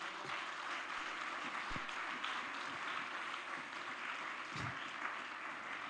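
A church congregation applauds the Lord during a worship service, a dense, sustained round of clapping from many hands that fills the room steadily, with occasional thumps underneath.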